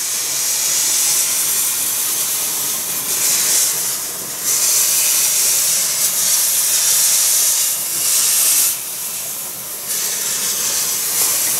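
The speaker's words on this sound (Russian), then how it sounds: "И сейчас из него пойдет пар. Вот и пар пошел." Steady, loud hiss of steam jetting from a Kitfort handheld garment steamer, continuous broadband rush with slight surges in intensity, close and alone without talk.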